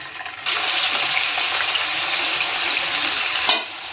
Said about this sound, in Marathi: पनीरला आपण तळून घेणार आहोत